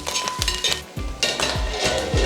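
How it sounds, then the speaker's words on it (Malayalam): Clams sizzle in a pan while a metal spoon scrapes and clinks against it, with repeated stirring strokes over a steady frying hiss. "നമുക്ക് കുറച്ച് നേരം കൂടെ നമ്മുടെ കക്കാർച്ചി നന്നായി ഇളക്കി കൊടുത്ത് മൂടി വെച്ച് വേവിച്ചെടുക്കാം"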